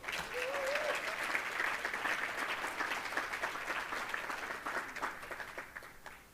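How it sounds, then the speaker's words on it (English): Sustained applause from a ceremony audience honoring employees with 30 years of service at KCKCC, a steady wash of many hands clapping at moderate distance for about six seconds, easing off slightly toward the end. "Let's give a round of applause to those celebrating 30 years of service at KCKCC."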